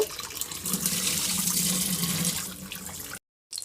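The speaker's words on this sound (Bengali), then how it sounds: "এবার আমি এই আলুটাকেও ভালো করে ধুয়ে নেব" Tap water running steadily over potatoes being washed in a kitchen sink, a close, continuous splashing hiss for about three seconds before stopping abruptly.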